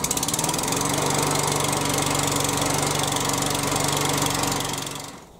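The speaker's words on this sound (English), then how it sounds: "and I can manually start the lawnmower." A Hyundai HYM430SPER self-propelled roller lawnmower runs with a loud, steady, close-up petrol engine chug and a fast even rhythm, then dies away at the end.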